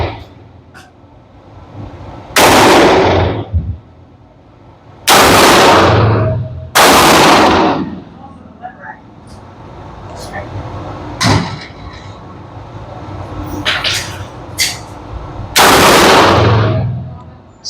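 A Maxim Defense PDX in 300 Blackout fires at an outdoor range: several loud, sharp single shots spaced a few seconds apart, with quieter clicks, handling noises and talk between them.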